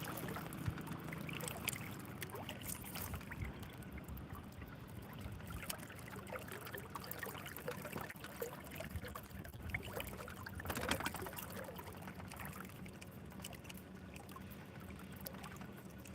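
Outboard engines of rental fishing boats warming up on the water, a steady low rumble mixed with lapping and splashing water, continuous and fairly faint throughout with no talk.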